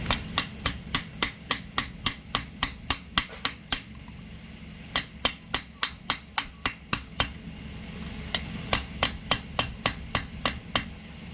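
A hammer striking a socket to drive a bearing into a Sniper 150 motorcycle water pump with an aluminum stopper, giving crisp metallic taps in quick steady runs of about a dozen, pausing briefly between runs, close and alone.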